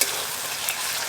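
Ginger, garlic and onion paste with spices frying in a pan for a large fish curry, giving a steady, close sizzle with light stirring and no voices.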